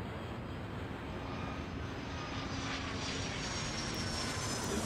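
A jet airliner rolls for takeoff in Airport Madness, a loud, steady broadband engine roar with a faint rising tone, continuous and close throughout.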